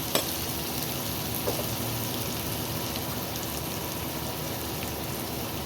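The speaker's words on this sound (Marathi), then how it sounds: "आता टाकायचा कांदा छान असा परतवून घ्यायचा" Onion sautéing with curry leaves in a hot pan, a steady close sizzle and crackle with light stirring, continuous and fairly soft throughout with no one talking.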